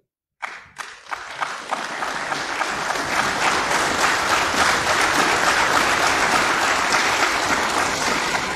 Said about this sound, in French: quand bien même ces applaudissements sont expressifs